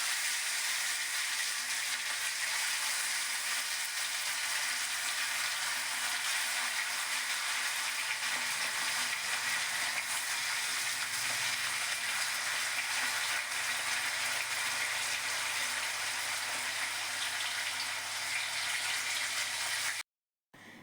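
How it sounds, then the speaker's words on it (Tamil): Fish frying in hot oil in a pan over a medium flame, a steady broadband sizzle holding at an even level for about twenty seconds before cutting off abruptly near the end. "ஹீட் பண்ணிவிட்டு நம்ம இப்போ மீன் பொரிக்க ஸ்டார்ட் பண்ணிடலாம்."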